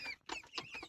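Chickens raised as broilers, 45 days old, give a few short, high clucks close by, quick separate bursts with small gaps between them.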